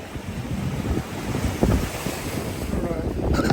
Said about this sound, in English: You guys are going to pick a real windy day to go out.